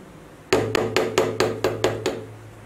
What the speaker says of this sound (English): Wow, yellow hammer.